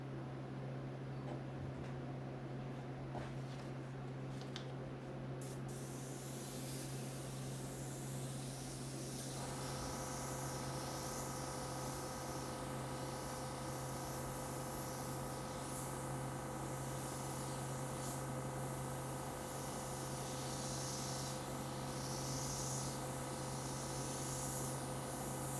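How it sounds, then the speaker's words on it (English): An airbrush sprays paint onto prints with a continuous hiss that shifts partway through into a fuller, steadier spray and runs unbroken to the end. The paint is a little too thick. "I could tell by the way it's spraying that I should have thinned it a little more"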